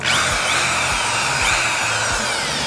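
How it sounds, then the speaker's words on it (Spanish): A power drill drawing power from a BLUETTI AC180 power station runs continuously with a steady high whine and faint pitch dips, loud and close, with no voices. "Y si le ponemos el taladro a la misma vez,"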